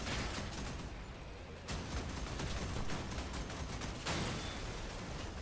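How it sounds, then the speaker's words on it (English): Rapid, dense barrage of missile and gunfire blasts in a video game, loud and continuous with rolling explosions throughout, no speech. "Missiles."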